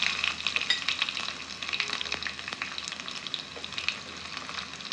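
Half a spoon of cumin seeds crackle and splutter in hot oil for a tempering, a dense, steady frying hiss with sharp pops throughout, close and fairly loud, with no voices.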